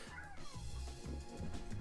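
A pet cat meows indoors, a short drawn-out call with rising and falling pitch, fairly close and alone over faint background noise.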